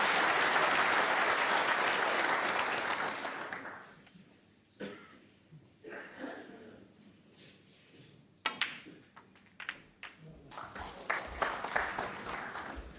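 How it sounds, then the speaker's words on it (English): Loud applause from a large snooker audience at the World Snooker Championship rolls for several seconds, then fades into scattered claps and light rustling noises. "there's the applause"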